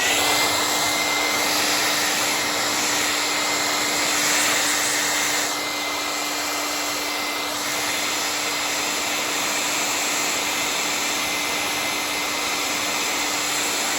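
A hot air blower runs in a steady, loud, unbroken roar while heating a squashed cardboard Game Boy box, with a constant whine over the rushing air and a slight dip partway through.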